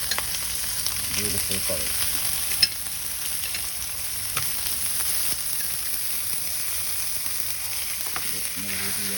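Vegetables fry alongside a New York strip steak in a hot pan, giving a steady sizzle with occasional utensil scrapes and taps; a voice speaks briefly.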